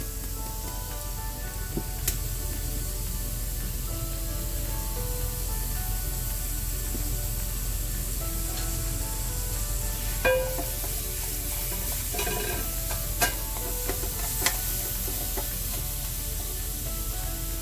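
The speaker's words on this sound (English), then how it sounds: "I'm going to start by browning my beef with a little salt and pepper" Minced beef seasoned with salt and pepper browns in a hot pan on the stove with a loud, continuous sizzle. Occasional scrapes and clicks sound as the meat is stirred.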